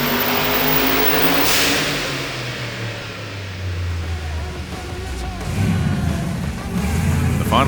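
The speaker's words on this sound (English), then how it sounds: "The boosted V8 class is always a crowd favourite, and Ryan's VY Commodore put on a show." A boosted V8 in a VY Commodore revs hard on a dyno at a car festival. A loud droning engine note rises and falls, then ends in rough, booming bursts.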